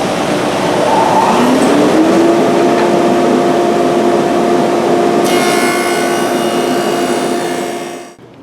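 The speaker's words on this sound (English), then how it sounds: "I've got my dado stack set up" Table saw fitted with a dado stack cuts grooves in thin boards about 3/8 inch thick: a loud, sustained whining hum as the blades bite through wood, shifting pitch midway, then quickly spinning down and cutting off.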